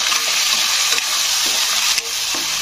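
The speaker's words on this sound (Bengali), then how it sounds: "এবারে ভালো করে কিন্তু তেলের সঙ্গে পেঁয়াজটাকে কষে নিতে হবে" Onion paste ground with two green chillies sautés in hot oil, giving a steady loud sizzle with a few soft scrapes of stirring.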